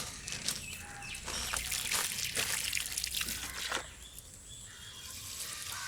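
Water trickles and pours into a container holding a Maruti Zen car's removed AC evaporator coil, a soft, uneven splashing stream that is quiet and close, then thins out near the end.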